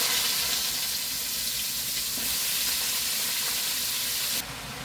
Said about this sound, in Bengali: ভাজা হয়ে গেছে মরিচ তেল, এখন দিয়ে দিব লাউ।